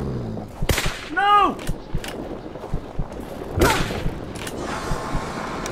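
A few loud gunshots ring out in the Kona video game against a steady windy background, with a brief voice and a wailing cry between the two main blasts.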